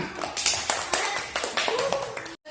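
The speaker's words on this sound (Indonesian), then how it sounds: "Oke, tepuk tangan." Classroom applause during a guided-inquiry biology lesson on breathing, a short burst of hand clapping from a small group with uneven, overlapping claps, fairly close, ending abruptly.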